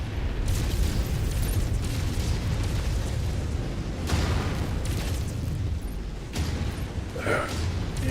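Missiles slam into a mech in a BattleTech-style game, producing a steady rumbling roar of explosions with several louder booms and bursts over continuous mechanical noise, under a synthetic cockpit voice.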